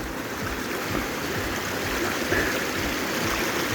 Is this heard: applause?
no